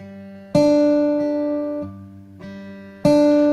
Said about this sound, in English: now you can really hear that the middle finger is being accented